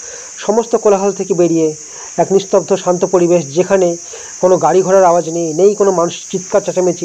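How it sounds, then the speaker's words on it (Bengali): Crickets in the Chamurchi rain forest keep up a constant high, shrill drone that runs beneath a voice narrating steadily over it. "চারিদিকে ঝিঁঝি পোকার আওয়াজ"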